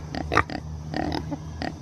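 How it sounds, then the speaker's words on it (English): Kunekune pigs grunt and oink in a few short, close snorts and squeals over a low steady hum, with no talking. "These are my Kunekune pigs."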